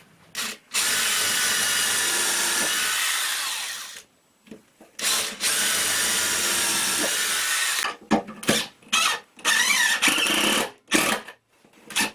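A power drill whines in long bursts, then in several short stop-start pulses, as screws are driven into a wooden 2x2 close by.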